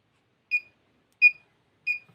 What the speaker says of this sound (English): with this beep sounds, it indicates that it is in ready to operate state